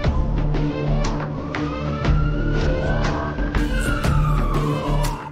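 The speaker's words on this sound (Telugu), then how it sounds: "అంబులెన్స్లో తీసుకుని వెళ్తున్నారు" An ambulance siren wails loudly and continuously, its tone sweeping up and down in repeated cycles close by, with background street noise and no talk.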